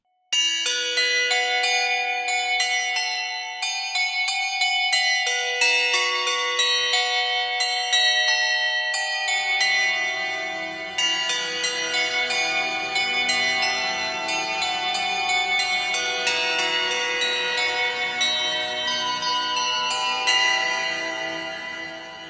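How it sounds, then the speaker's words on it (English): Handbells struck with a mallet in the LABS Bell Swarm preset It Tolls ring out in a dense, overlapping cascade of bright metallic tones with long, shimmering decays and rich harmonics. "with the handbells played using a mallet."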